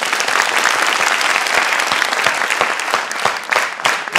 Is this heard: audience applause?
yes